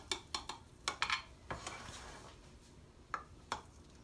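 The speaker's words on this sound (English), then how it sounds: "just cut it in some thin slices like that" A knife slices cooked Trinidad coucou into thin pieces, giving a quiet series of sharp clicks and taps on a board, some in quick pairs and then spaced out, with soft handling noise between.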